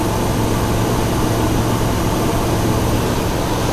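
A 1972 Buick GS Stage 1 engine idles while its idle mixture is adjusted, giving a loud, steady, unbroken drone with no voices over it.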